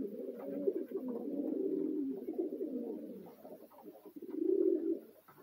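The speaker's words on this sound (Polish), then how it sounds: "Czerwony tam siedzi z Radwanów gołębi." Young racing pigeons cooing steadily in a loft, soft low burbling calls that keep running through and swell near the end, close and moderately quiet.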